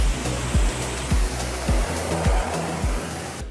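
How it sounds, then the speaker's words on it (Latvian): Pressurized water sprays steadily as a car's underside is rinsed before underbody treatment, a loud continuous hiss with a regular low thumping pulse beneath it and no talking. "No sākuma mēs mašīnu noskalojam"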